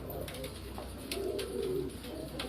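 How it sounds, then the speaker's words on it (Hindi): Ferozpuri pigeons coo softly and continuously on a Karachi rooftop, fairly faint over a low steady background hum. "कराची पापोश नगर की छत पर उनके फिरोजपुरी कबूतरों को शौक करवा रहे हैं"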